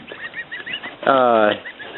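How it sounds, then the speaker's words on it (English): A pet gander goose on a homestead gives one loud, harsh nasal honk lasting about half a second, close by, set among softer low chattering calls before and after. "I have a pet gander."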